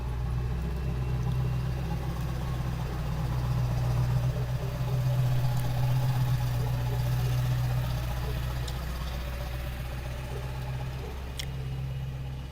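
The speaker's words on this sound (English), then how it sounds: "you have a very noisy diesel truck?" A noisy diesel truck engine idles nearby at a campground, a steady low rumble with a droning hum that runs unbroken the whole time and stays loud with no talk over it.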